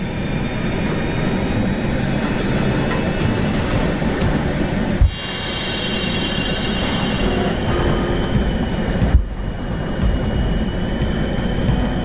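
Jet engine pushed toward full thrust, running with a loud, steady roar and broadband rumble, broken by two sharp thumps from surging, with no talking.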